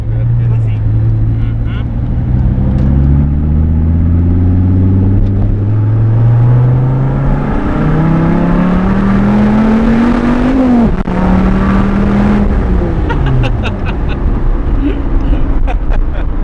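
A Dodge Viper's engine burbles low and then revs up in long rising sweeps, loud and close from inside the car, with people talking over it throughout.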